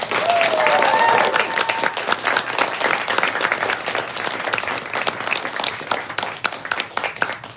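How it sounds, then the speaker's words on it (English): An audience at a poetry reading applauds warmly, a dense, sustained wash of clapping with a few whoops early on, continuing throughout. "let's give them one more round of applause"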